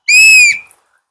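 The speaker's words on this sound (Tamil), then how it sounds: "விசில் வந்துருக்குது." A toy whistle from a 90s-style mystery gift box gives one loud, shrill blast of about half a second, alone, then trails off quickly.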